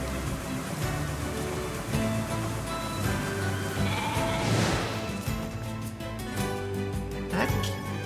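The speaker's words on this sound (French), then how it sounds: "Ok, donc voilà les moutons." Sheep in the video game NieR Replicant bleat repeatedly over layered game music and ambient sound. The bleats are loud and recur in short bursts across the passage.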